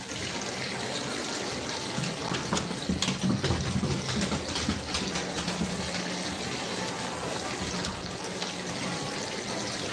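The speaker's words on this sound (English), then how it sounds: "Sluice is running really, really nice." Water rushes steadily through a gold sluice outdoors, a continuous close, even splashing flow with slight surges and no break.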